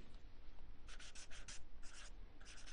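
A pen writing an example sentence during an English grammar lesson, with bursts of quick scratchy strokes on a surface separated by short pauses, close and clear over a low room hum.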